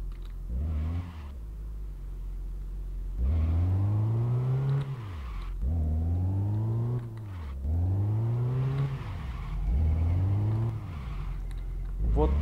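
The engine of a homemade Zhiguli-based jeep runs and revs: a steady idle broken by four or five loud rising, falling revs in a rhythmic pattern, close up in a garage.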